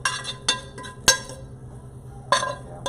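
Metal utensil scraping browned fond from a pan while cooking ginger sesame noodles with caramelized mushrooms, heard as several short, sharp clinks and scrapes at irregular intervals, fairly close, with no talking.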